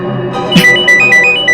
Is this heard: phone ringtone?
yes